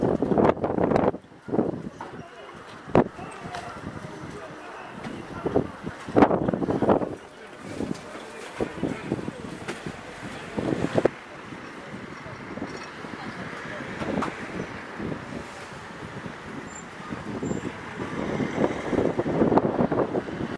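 Strong gusting wind buffets an open-air street market in Manfredonia, roaring and rumbling in loud bursts across the microphone while people talk through it.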